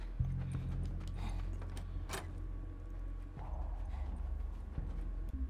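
Horse hooves clop in The Last of Us, a steady rhythm of close hoofbeats over a constant low game ambience, with a brief louder knock partway through.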